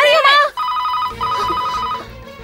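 A telephone rings in repeated electronic trills in a Hindi-dubbed South Indian action movie scene, starting right after a voice speaks, steady and moderately loud over a low background hum.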